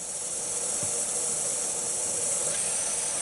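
Steady, loud hiss of steam venting from an Instant Pot pressure cooker cooking eggs, continuous and unbroken throughout with no talking.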